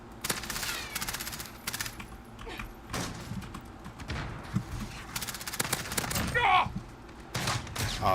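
Gunfire in the video game Apex Legends comes in repeated bursts of rapid shots, moderately loud and close, with brief pauses between volleys and some faint voice-like sounds mixed in.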